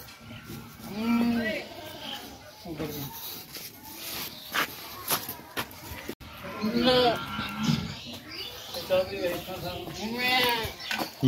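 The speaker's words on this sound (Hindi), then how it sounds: "जिसने भैंस नहीं देखी वो भैंस देख ले।" Village buffalo and other livestock low and moo at a rural farmhouse, several drawn-out calls close by, mixed with rustling and shuffling, while people talk throughout.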